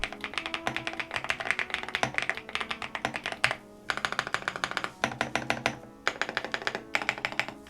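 Brisk typing on a KiiBOOM Phantom81 Lite keyboard with smooth pre-lubed linear switches, giving dense bursts of close, even clacks broken by short pauses.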